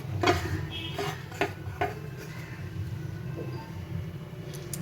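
Fenugreek leaves mixed into pakora batter in a bowl, with several sharp spoon-on-bowl clinks and soft wet stirring, close and fairly quiet against a low room hum.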